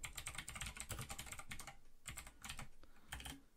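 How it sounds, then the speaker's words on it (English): Fast, close computer keyboard typing with clustered key clacks in quick bursts and short gaps, continuous over a few seconds. "let's type in initialize variable"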